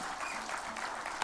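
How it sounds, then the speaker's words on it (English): An audience at a launch ceremony applauds steadily, with dense, even clapping heard throughout the brief stretch. "Another round of applause for His Excellency"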